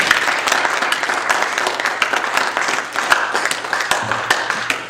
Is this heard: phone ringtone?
no